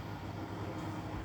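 A home washing machine runs with a steady low hum and rumble, an even, continuous drone with no voices over it.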